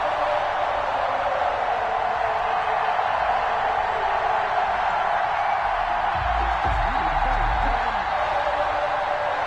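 Stadium crowd in an EA Sports football game before kickoff between the Las Vegas Raiders and the Kansas City Chiefs: a loud, steady roar of many voices filling the whole span, with a brief low thump near the end.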